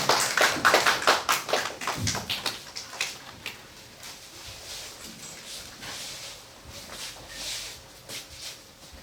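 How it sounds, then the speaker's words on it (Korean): A church congregation applauding during a Sunday thanksgiving service, a burst of dense clapping at the start that thins out and fades after about two seconds, leaving faint room noise and scattered claps. "우리 박수로 환영해 주시면 감사하겠습니다"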